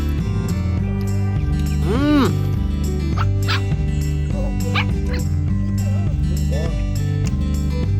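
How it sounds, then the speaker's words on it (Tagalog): Dogs on a farm yip and whimper in short, high bursts over continuous background music, with one rising and falling whine standing out among several sharp cries. "Mga aso namin guys, Ang kukulit na mga cute."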